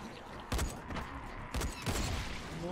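Gunfire in the co-op video game Dying Light, with two sharp loud blasts about a second apart followed by another burst, over a faint voice in the background.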